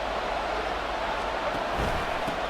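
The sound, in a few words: stadium crowd cheering in Madden NFL 24 video game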